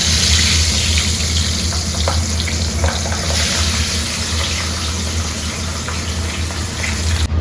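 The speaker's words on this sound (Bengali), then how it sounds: "কড়াই গরম হয়ে গেছে, এইবার মাছ দেওয়ার পালা।" Fish rubbed with salt and turmeric frying in oil in a hot kadai, a loud steady sizzling hiss that holds without pause.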